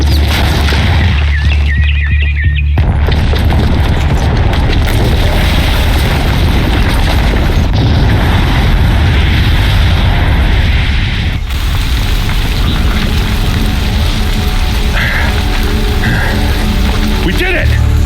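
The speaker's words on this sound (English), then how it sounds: "the booby trap on the bomb downstairs is gonna get set off" A bomb goes off in Horizon Zero Dawn with a loud, sustained roaring blast and crashing debris that dominate the whole stretch, dense and heavy throughout with a brief dip early on.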